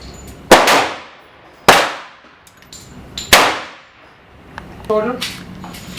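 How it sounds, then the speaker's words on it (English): Loading a .50 caliber round ball into the barrel of a Thompson Center Hawken muzzleloading rifle gives three loud, sharp metallic clanks about a second apart, each ringing briefly, with a softer knock after them. "he's going to transfer that part into the barrel there, and then there goes the 50 caliber ball"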